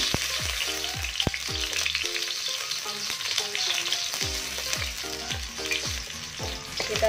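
Garlic cloves and shallots sizzle steadily in hot oil, with a spatula scraping and stirring the pan in a repeating rhythm; close and continuous, no talking.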